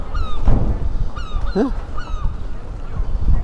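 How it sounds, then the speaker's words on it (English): Gulls call overhead by the seafront in Brixham, Devon, UK, giving a few short yelping cries over steady outdoor background noise, with a brief murmur from a person. "I can hear the gulls above, so we know we're by the sea."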